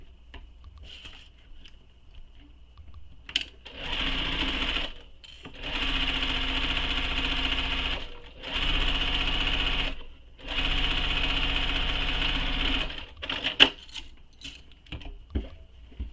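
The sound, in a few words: sewing machine sewing a seam of a crossbody bag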